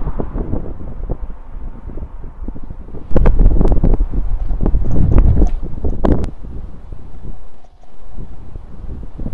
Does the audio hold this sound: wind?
yes